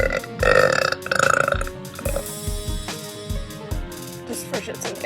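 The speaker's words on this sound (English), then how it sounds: "Here's a video of my pretty girlfriend burping." A young woman lets out a series of loud, drawn-out burps, several croaking belches in a row with rattly texture and brief pauses between them, close to the microphone.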